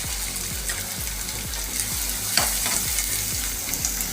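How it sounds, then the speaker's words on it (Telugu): Chopped onions hit hot oil and fry with a steady, dense sizzle, joined by repeated rhythmic scrapes of a spoon stirring the pan, close up with no talking, while an eggless vegetarian bhurji is being cooked. "ఇప్పుడు వేడెక్కిన ఆయిల్లో మనం చాప్ చేసి పెట్టుకున్న ఆనియన్స్ వేసేద్దాం."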